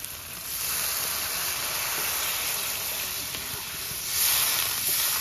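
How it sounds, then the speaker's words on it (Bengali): Water poured into a pan of hot, oily spice paste with yogurt, for a fish kalia curry, sends up a loud, sustained steamy hiss that swells again near the end, close up and with no voices. "মশলাতে তেল ছেড়ে দিয়েছি, এবার জল দিয়ে দেবো"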